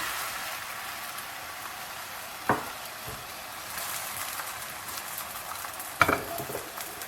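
Flatbread cooking in a lightly oiled pan, with a soft, even sizzle throughout, broken by two sharp clinks or scrapes and some faint stirring-like rustle.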